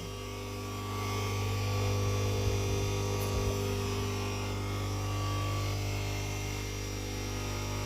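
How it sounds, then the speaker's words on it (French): An electric radiator heater powered from a Fossibot F3600 Pro battery power station gives a steady low mains hum and faint buzz, with no talk. "Je vais allumer le radiateur."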